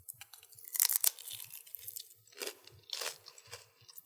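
Crisp crunching bites of a snack, several bursts of chewing close to the mic with short pauses between them.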